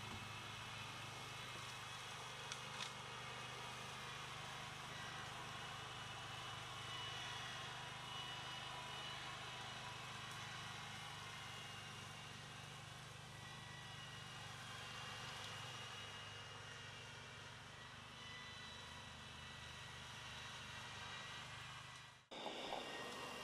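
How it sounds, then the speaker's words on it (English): A Spider remote-controlled slope mower drives across grass, giving a continuous, steady engine drone that holds level throughout before a brief drop near the end, with no voices. "Never lose sight of the mower while driving."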